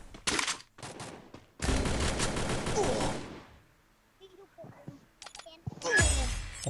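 Gunfire in the Free Fire video game, with an XM8 rifle among the weapons: several bursts of rapid automatic shots, one long sustained volley and scattered single cracks, loud and close, with a few quieter game sounds between.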